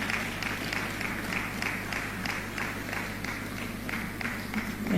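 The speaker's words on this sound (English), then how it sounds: "Please keep clapping till he gets here." Applause from an evening keynote audience at a media sector event, a continuous patter of many hands held at an even level over a low steady hum.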